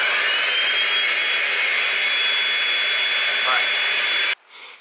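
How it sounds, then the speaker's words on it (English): A Shark vacuum cleaner runs steadily with a loud, high whine as it sucks debris out of the glass tracks of a reptile terrarium, then cuts off abruptly near the end, leaving a faint low hum. "Gotta vacuum all of those glass tracks and get the last little bits out before I disinfect."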